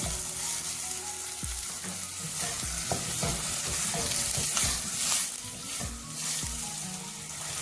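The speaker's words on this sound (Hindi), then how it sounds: "प्याज को हम गोल्डन ब्राउन करेंगे हल्का सा।" Steady sizzling of finely chopped onions frying to golden brown in a pan for mutton masala gravy, with occasional scraping and stirring clatter from a spoon, continuous and close.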